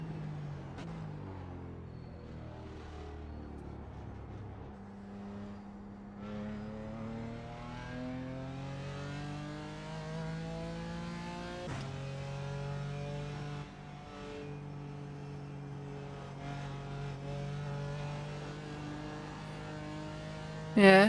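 BMW M4 GT4 engine in a racing video game, a steady, crisp engine note that climbs through the revs with gear shifts, continuous and fairly even in level, with no talking.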